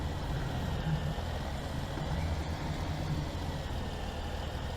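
A tractor engine in Farming Simulator 2017 drones at a steady low idle while the tractor backs up. The rumble is constant and moderately quiet, with no talk over it.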